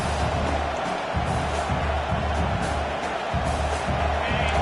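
A home crowd at a football game roars in a continuous, loud wash of cheering and noise, swelling slightly at moments, with a faint voice underneath.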